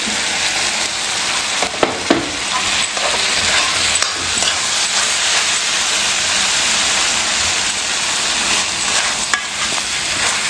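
Chicken pieces are stir-fried in a hot pan, giving a loud, continuous close sizzle with occasional scraping stirs and small clanks throughout and no talking.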